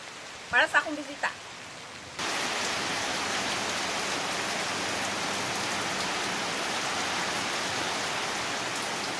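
A voice talks briefly, then heavy rain in Martinique abruptly swells into a loud, constant broadband hiss that holds steady to the end.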